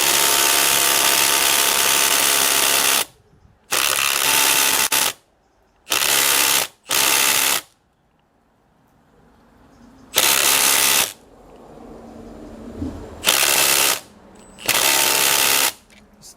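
Milwaukee Gen 4 impact driver drives a fastener deeper, loud rattling hammering in several bursts of a second or two each, separated by quiet pauses, up close.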